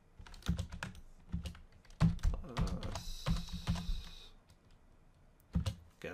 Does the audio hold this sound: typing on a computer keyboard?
yes